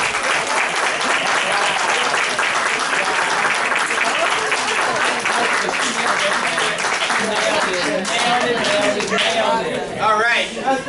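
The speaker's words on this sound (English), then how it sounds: "round of applause" An audience at a fundraising academy session bursts into dense, sustained applause that stays loud and steady throughout, with crowd voices mixed into the clapping before it thins slightly at the end.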